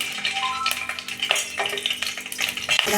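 Green chillies fry in oil for a Karnataka-style donne biryani, giving a close, steady sizzle with occasional stirring scrapes and a faint hum underneath.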